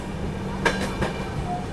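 The 15658 Brahmaputra Mail running at speed after leaving Mirzapur, a loud continuous rumble of the rails inside the moving train with a couple of brief clattering knocks from the wheels.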